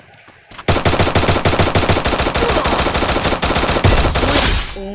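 Rapid automatic gunfire in the mobile shooter game Free Fire, a loud sustained stream of evenly spaced shots lasting several seconds with no talk over it.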